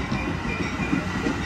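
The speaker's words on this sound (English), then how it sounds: "Metra 1254 is arriving from Metra's Aurora Transportation Center, headed to Chicago Union Station." A Metra commuter train arriving at LaGrange Road station on the BNSF line, a rumbling, steady roll with a low clatter of wheels on track, loud and close, with no voices.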